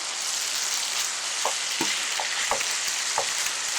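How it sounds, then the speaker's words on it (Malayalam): Sultan beef curry is stirred in a frying pan, a steady sizzle overlaid with several distinct scraping knocks of the spoon at an uneven rhythm, close and clear, with no talking. "ഇതിനിങ്ങനെ ഒന്ന് ഇളക്കി"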